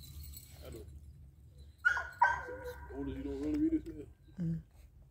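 A dog whimpers and gives a few short barks close by, with a low rumble of background noise underneath.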